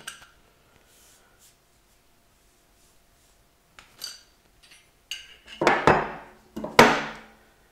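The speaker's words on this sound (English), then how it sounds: "tighten these two together with a pair of wrenches" Metal clinks and scrapes come from a pair of wrenches tightening a flare nut and mandrel on a boat fuel line fitting, with sparse taps first and then louder clustered turns.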